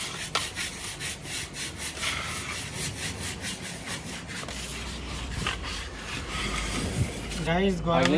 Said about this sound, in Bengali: কত সুন্দরভাবে ঘষছে দেখা যাচ্ছে আমাদের দেয়ালটাকে।